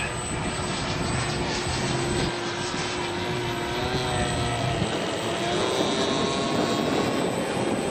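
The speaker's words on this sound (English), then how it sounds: "Cessna making a pass." A Cessna airplane makes a pass at an airshow, its engine droning loudly and steadily with a slight shift in pitch as it goes by.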